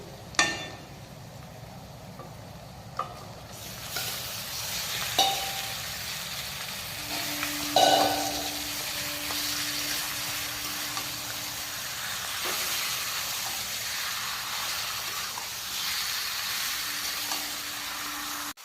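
Marinated duck meat tipped onto lightly fried onions for Bengali duck curry, raising a broad, steady sizzle and hiss with occasional clinks and stirring knocks, close and continuous.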